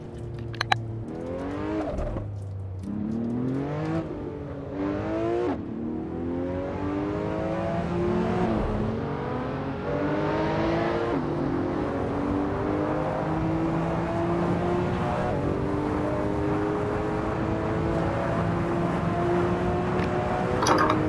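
A Porsche engine in the Assetto Corsa racing game, heard from the cockpit, revs hard through several quick upshifts before settling into a loud, steady high-rpm drone that climbs slowly, with no talk over it.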